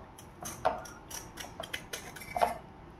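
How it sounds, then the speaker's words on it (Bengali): Ridge gourds peeled by hand in a kitchen, faint, sparse scraping clicks and light metallic ticks spaced irregularly, close and quiet with no talk. "এবারে এইগুলো সমস্ত খোসা ছাড়িয়ে নেবো"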